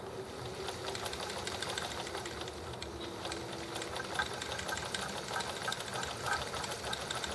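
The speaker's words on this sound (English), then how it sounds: "stitch a long row under zigzag and see where we end up." A sewing machine stitches a long zigzag row, producing a continuous, even mechanical whir with rapid needle rattle running throughout.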